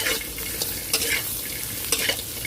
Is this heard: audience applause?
no